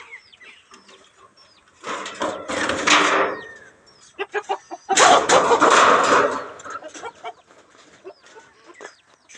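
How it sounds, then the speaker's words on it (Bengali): Chickens in a backyard coop cluck and call in two loud bursts with scattered short clucks between, close to the listener. "দেখেন আপনাদেরকে দেখাচ্ছি আমার মুরগিগুলো"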